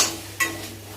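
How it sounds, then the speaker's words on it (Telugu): A spoon scrapes and stirs curry in a cooking pot, the curry's main ingredient soaked overnight: a short scrape at the start and another sharp one midway, over a steady low hum with no talk. "ఈరోజు నేను కూర వండుతున్నాను."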